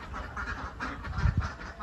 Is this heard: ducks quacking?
yes